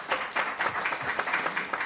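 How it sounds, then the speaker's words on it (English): A crowd claps steadily for about two seconds, a dense patter of many hands with no talking over it. "You can clap on that."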